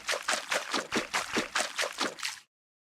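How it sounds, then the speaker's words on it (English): Water sound effects from a game engine sound cue play as a quick run of about nine splashy, trickling bursts in even rhythm, close and alone, ending in silence. "it will pick one of these water sounds at random"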